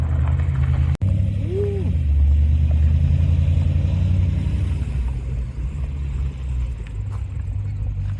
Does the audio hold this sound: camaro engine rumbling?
yes